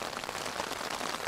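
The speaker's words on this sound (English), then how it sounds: "The rain came on sort of lightish for about 5-10 minutes and then" Heavy rain drums on a tent during a wild camp in the Lake District, a dense, steady hiss of drops pattering on the fabric close overhead.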